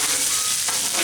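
Onions and peppers sauté on a flat-top Blackstone griddle for shrimp fajitas, giving a steady, close, broadband sizzle with soft stirring for just over a second and no voices.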